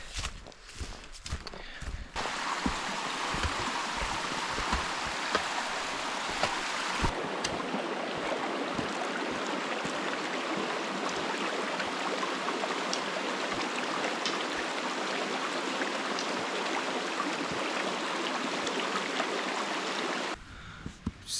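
A river or stream flows in wild backcountry as a steady, close rush of water that holds for most of the clip. Irregular soft taps like footsteps run through it, and the sound cuts off sharply near the end.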